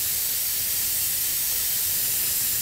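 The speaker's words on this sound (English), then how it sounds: "I wanna watch and see how the paint sprays." Paint sprayer misting paint onto a model horse, a steady, unbroken hiss of spray that holds at an even level throughout with no voices.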